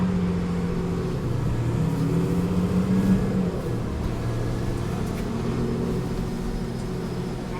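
A bus pulls away from a stop in an audio drama, a steady mid-loud engine drone with a whirring pitch that rises briefly then settles into a constant hum, with no voices over it.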